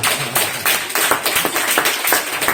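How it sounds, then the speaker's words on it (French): An audience at a hypnosis night at Le Dandy claps for the volunteers, giving a lively, rhythmic burst of applause that stays full throughout. "Super, on peut les applaudir bien fort."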